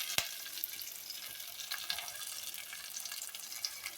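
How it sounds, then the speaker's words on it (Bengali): Hot water poured into a pan of frying whole spices (cardamom, cinnamon and fenugreek), bursting into a steady, close, broadband sizzle and hiss with small crackles throughout. "আমি সবসময় গরম জল দিয়ে দিই।"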